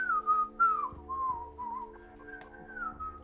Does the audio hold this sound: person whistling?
yes